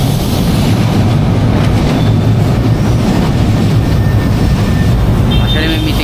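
An LRT train at Pareto Station gives off a loud, steady rumble of wheels and cars that fills the whole stretch up close, with a faint squeal near the end.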